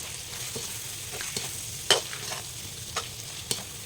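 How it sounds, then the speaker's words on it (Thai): Sour fermented fish and egg are stir-fried in a hot pan, with a steady close sizzle and intermittent scraping clacks of the spatula at irregular intervals. "ผัดจนปลามันสุกนะครับ"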